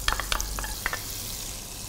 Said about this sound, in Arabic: وأبتدي أضيف البصل. البصل عندي مقطع مفروم،